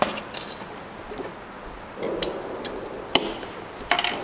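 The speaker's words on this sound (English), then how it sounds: "I'm just going to plug in the connector" An electrical connector is pushed into an aftermarket LED taillight on a 2015+ Mercedes C300 W205 sedan, with scattered soft taps and handling noises before one sharp plastic click, then a few more light knocks.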